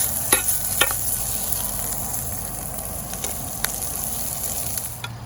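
Sausage fries in a camping mess kit outdoors at Clifty Falls, Indiana, with a steady soft sizzle throughout and a few faint clicks of stirring, no talk.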